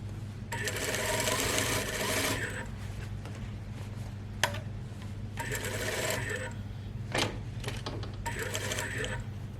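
Sewing machine stitching around the back neckline of a lined overgarment, in several close whirring runs with pauses and faint clicks between them.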